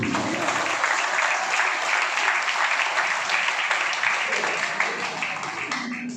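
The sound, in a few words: audience applause opening a ceremony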